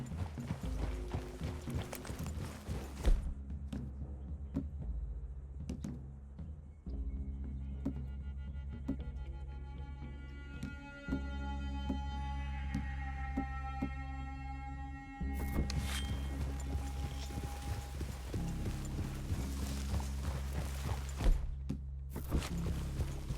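Horse hooves clip-clop at a slow walk across the ground in the Red Dead Redemption 2 video game, steady close steps with a low ambient hum beneath, quieter in the middle and fuller again near the end.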